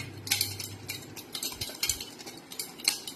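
Rambutan fruit shaken in a bowl, a run of light clattering knocks and rattles in irregular bursts, close and fairly quiet.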